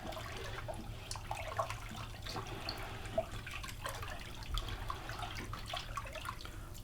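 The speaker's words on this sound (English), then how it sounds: "You stir up your pulp." Paper pulp stirred in a vat of water while making homemade paper, producing soft continuous sloshing and swirling with faint drips and small splashes, close and quiet, with no talking.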